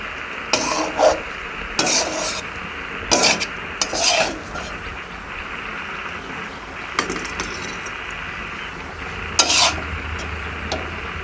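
Okra (bhindi) is stir-fried in a pan, with a steady soft sizzle under repeated scraping spatula strokes, some sharp and close, arriving in irregular bursts.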